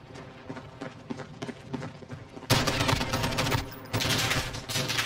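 Semi-automatic Scar MK20 rifle fire in the video game Modern Warfare, loud rapid shots in dense bursts that grow heavier partway through, with no talk.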